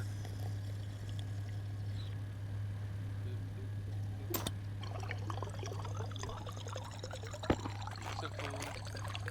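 Water poured in the game Stationeers on the moon, a soft trickling and splashing stream that starts partway through over a steady low machine hum, fairly quiet and close.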